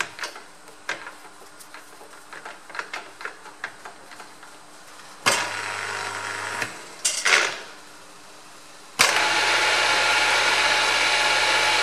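An electric drill bores holes in marked-up metal, beginning with scattered taps and clicks and then running in loud sustained bursts of whirring and grinding, close to the microphone.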